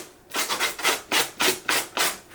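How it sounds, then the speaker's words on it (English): Sandpaper rubs back and forth over a denim purse to distress the fabric, seven or so rhythmic rasping strokes heard close and clear with no speech. "What we're about to do now is do some sanding on it to like distress it some more."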